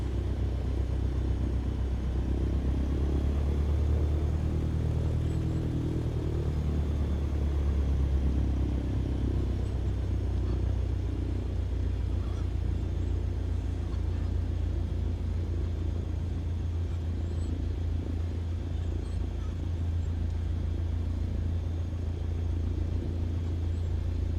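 Cessna 170 taildragger piston engine in Microsoft Flight Simulator 2020 holding a steady low rumble just above idle, swelling slightly early on, then droning evenly and alone throughout.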